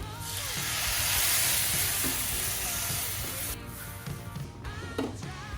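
Masala for Kerala fish molly sizzles loudly in a pan as thin second coconut milk is poured in, a broad steady hiss that then eases into quieter bubbling with small stirring knocks.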